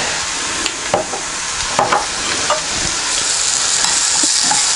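Lentil stew being stirred after all-purpose seasoning and garlic powder go in, with a spoon scraping and knocking the pot in irregular strokes over a continuous sizzle from the hot pan.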